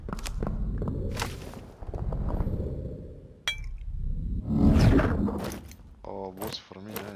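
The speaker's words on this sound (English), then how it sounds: "I hear footsteps." Footsteps in the dark fantasy dungeon game Dark and Darker, scattered thuds and scuffs mixed with clinks and a sharp metallic hit, heard over game noise and talking players.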